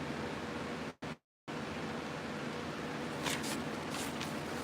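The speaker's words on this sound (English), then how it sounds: "this fan's making it really hard for me to draw." An electric fan blows steadily close by, a constant broadband whoosh that cuts out briefly near the start before resuming.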